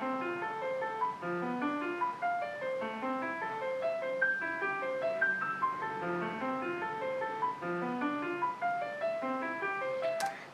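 A Mozart piece is played back in Cubase with a half cadence and then a perfect cadence. A bright, plucked, synth-like melody runs over chords in a steady rhythm at moderate volume, with no talking.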